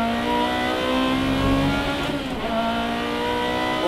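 A Ferrari 430 Scuderia engine held at full throttle on track, a loud, continuous high-pitched wail rising and shifting pitch as it accelerates, alone without talk.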